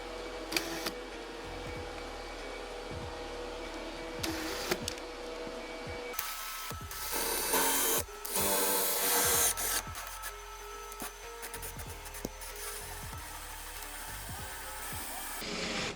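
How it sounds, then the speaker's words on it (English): A power drill bores a clean hole from one side while a barn door is installed in a bathroom, grinding steadily with a louder burst of drilling partway through and occasional clicks and handling knocks. "then we'll drill from this side for a clean hole"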